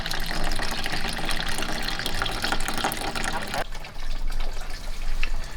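Hot water runs from a tap while tools are rinsed under it in a gravity-fed home water system, a loud steady rushing flow that shifts tone partway through as the stream changes, with a voice talking over it.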